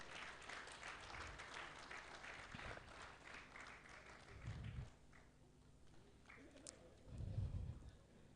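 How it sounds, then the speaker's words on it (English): An audience at a panel discussion applauds to welcome a panelist; the clapping is strongest at first, then thins and fades, leaving a few low thuds and quiet room noise. "Please, another round of applause for him."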